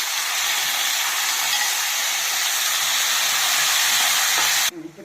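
Chicken liver fries in a pan with onion, coriander and curry leaves, making a loud, even, continuous hiss that holds steady and then drops off abruptly just before the end.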